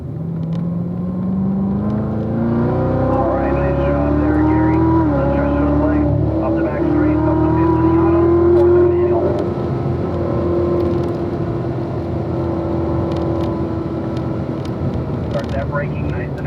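Race car engine on a track, loud and steady, pitch falling and jumping as it brakes and downshifts through the gears, with a voice talking over it.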